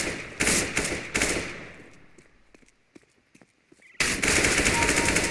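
AK rifle fire in CS:GO: two loud shots near the start, a quieter stretch with scattered distant shots and thuds, then a loud sustained automatic burst at the end.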